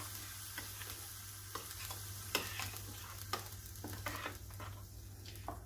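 Coconut chutney being lightly stirred in a bowl: a string of soft scraping and clinking spoon strokes at an uneven rhythm, close and fairly quiet over a low steady hum.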